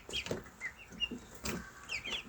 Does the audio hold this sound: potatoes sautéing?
no